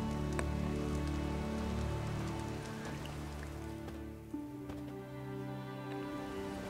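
Steady rain falls in The Witcher 3: Wild Hunt, a constant dense patter on surfaces under a low game ambience and music, with no one speaking.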